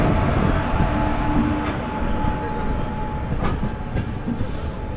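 The 16218 Shirdi Mysuru Weekly Express rolls along the rails with a steady, loud rumble and faint clicks from the wheels, heard from on board the train.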